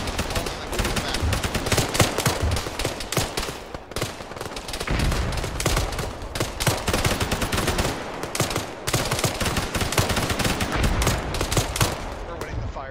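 Dense, continuous gunfire from an Arma firefight, with rapid automatic bursts and overlapping shots running almost unbroken and loud throughout, and voices heard faintly underneath.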